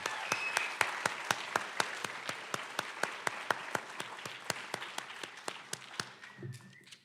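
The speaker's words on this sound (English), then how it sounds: "Can we give them another round of applause?" A single pair of hands claps in a quick, even rhythm at a high school National Honor Society induction ceremony, each clap sharp and distinct, fading out at the end with a faint voice.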